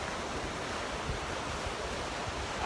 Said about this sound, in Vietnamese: Wow, sóng đánh rất là mạnh